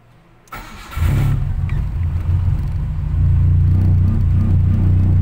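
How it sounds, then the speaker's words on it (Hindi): A car engine starting in the evening: a click, a brief cranking whir, then the engine catches and settles into a loud, steady low idle that swells slightly near the end. "तो गाड़ी को स्टार्ट करके देखते हैं"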